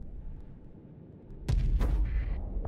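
Heavy ship cannons fire in the space combat game Starsector, a sudden loud booming volley after a quiet low rumble, followed by a second blast and a sustained high whine.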